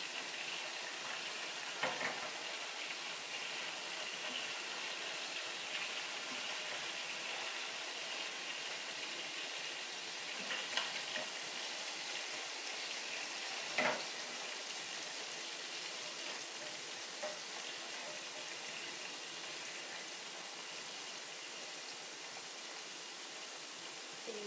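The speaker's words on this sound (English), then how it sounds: "Saute." Food sautéing in a pan gives a steady, broad sizzling hiss that runs throughout, with a few faint clicks and pops and no talk.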